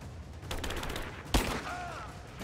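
Gunfire in the video game Rise of the Tomb Raider, a single sharp loud shot standing out over a dense bed of game sound and ambience.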